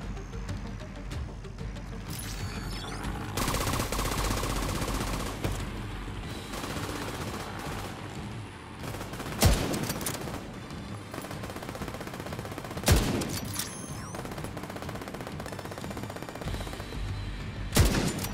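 Video game gunfire crackles in bursts and single sharp shots over a rumbling background, with a few loud, isolated reports standing out near the middle and end.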